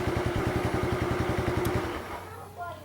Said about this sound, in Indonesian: Nah, motornya mati.